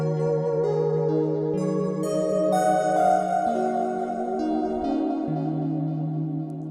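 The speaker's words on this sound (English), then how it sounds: "there's a lot of DX7 kinds of FM pads or plucks here" A Bazille synthesizer plays DX7-style FM pads and plucks, sustained glassy chords shifting every second or so with bright metallic overtones, clear and alone without any voices.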